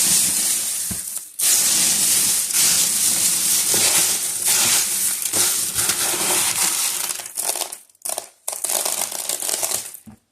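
Dried bean pods crushed by hand crackle and crunch continuously, a loud crisp rustling with brief pauses near the end.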